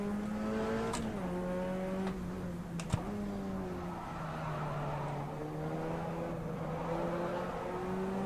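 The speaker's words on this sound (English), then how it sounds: "you can hear the tires squealing, just kind of begging for mercy around this Ibarra track" Race car tires squeal in rFactor 2 on the Ibarra track, a sustained high whine riding over a steady engine drone that rises and falls through the corners, loud and continuous throughout.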